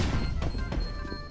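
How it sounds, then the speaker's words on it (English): A flashbang grenade is thrown in a first-person shooter video game, giving a quick series of close, muffled thuds and a sharp crashing impact within about a second. "I throw in a flashbang."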